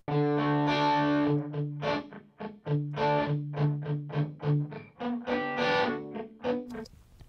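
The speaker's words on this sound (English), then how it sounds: "Now let's go down to 34 milliseconds and have a listen to what it sounds like." Distorted electric guitar plays a sequence of sustained and choppy notes, with a very short 34-millisecond delay thickening the sound, alone and fairly loud.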